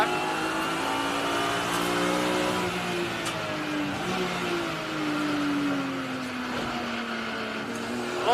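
A race car engine, still cold on track, revs and drones continuously and loudly, its pitch sliding up and down as the driver works through the gears, with no talk over it.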